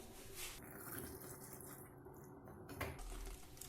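Water is poured in a steady stream into saag in a pressure cooker, a soft continuous splashing pour lasting a couple of seconds, close and fairly quiet, ending with a brief clatter.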